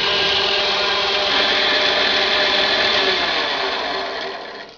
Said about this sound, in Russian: Включаем станок и делаем отверстие.